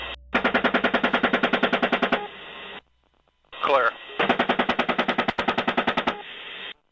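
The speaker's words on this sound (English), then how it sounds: "The Apache fired on the van, killing the driver, Saeed Shma, and 2 other" Apache helicopter cannon fire on a van comes through a thin radio-style recording as long bursts of rapid, evenly spaced rounds, with a short radio voice between them.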